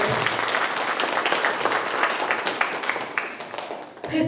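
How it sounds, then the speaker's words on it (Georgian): A crowd bursts into hearty applause at a children's village evening event, the dense clapping rolling on for several seconds before cutting off abruptly. "გთხოვთ აპლოდისმენტებით დავაჯილდოვოთ ამ დიდი არტ-ობები და წარმატებულებს"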